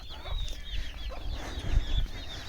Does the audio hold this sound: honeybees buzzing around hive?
no